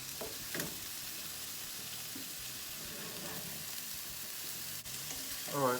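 Lean Salisbury steak patties of 90% meat sizzle in a nearly grease-free pan, a soft, even, continuous crackle heard close but at low volume, with a brief stir or clatter and a short burst of a voice near the end.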